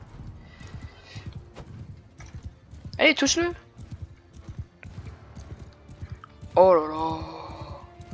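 Horse hooves beating in a rapid, steady clip-clop rhythm during a night battle in the video game Mount & Blade II: Bannerlord, running under a man's speech, with occasional louder game effects breaking in.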